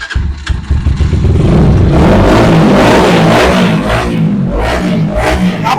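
A Yamaha FZ V2 motorcycle with a double silencer revs hard up close, a loud sustained engine roar that swells and holds with slight rises and dips.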